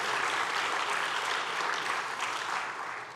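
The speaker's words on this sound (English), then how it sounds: "And you can clap for that." Audience applause at a Reform Judaism gathering, a dense, steady wash of many hands clapping that holds loud throughout and tapers slightly at the end.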